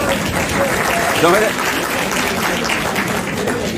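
Applause from an audience at a university lecture session, a steady sustained clapping across the whole moment with a voice speaking over it.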